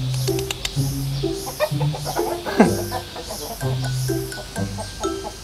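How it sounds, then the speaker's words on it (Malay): Chickens cluck in a farmyard, with repeated short, hoarse calls and a few longer drawn-out clucks, fairly close and steady over a noisy outdoor background. "Ayam."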